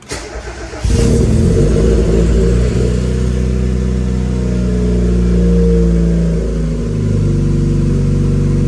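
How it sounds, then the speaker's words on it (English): A Mazda Miata engine cranks briefly, catches and settles into a steady, loud idle with a low rumble that runs on close to the microphone, with no talking over it. "it's idling way better than yesterday"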